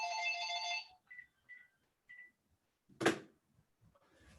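A mobile phone ringtone plays a short melodic burst, followed by a few faint tonal blips and a sharp knock or clack, then quiet rustling.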